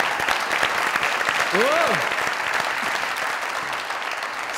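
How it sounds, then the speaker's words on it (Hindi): Loud audience applause on a comedy talk show, a continuous dense roar of clapping filling the whole stretch, with a brief whistle-like tone rising and falling in the middle. "जोरदार तालियां"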